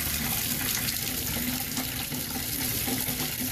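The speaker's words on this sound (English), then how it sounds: "it looks like it's draining much better" Water drains steadily down a shower drain after unclogging with a DIY sewer jetting kit, a continuous close rushing and gurgling wash with no talking.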